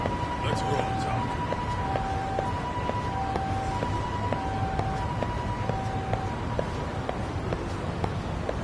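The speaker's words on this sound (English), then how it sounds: "Siren." A two-tone siren in the video game Lost Judgment wails steadily, alternating between high and low notes in an even repeating cycle over a dense background hum, moderately distant.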